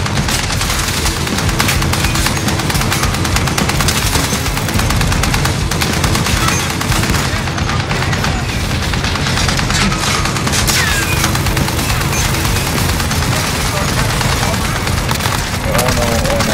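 Sustained heavy gunfire from a .50 caliber machine gun in Call of Duty: Warzone rattles loudly and without pause, mixed with booms and game action, and voices talk over it now and then.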